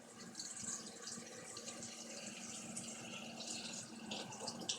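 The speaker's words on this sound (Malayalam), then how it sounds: "അപ്പോൾ നമ്മൾ വെള്ളം ഇതിലേക്ക് ഒഴിക്കുകയാണ്." Water pours steadily into a pot of leaves being readied for a medicinal herbal drink, a continuous close splashing and trickling fill with no talk.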